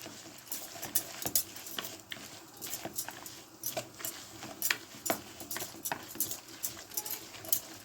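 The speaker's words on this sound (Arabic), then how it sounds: "هنقلب الخضرة كلها كده مع البيض بالطريقة دي" Cauliflower and vegetables are stirred with egg in a bowl, producing quick, faint, irregular clicks and scrapes of a utensil against the bowl, with no talk.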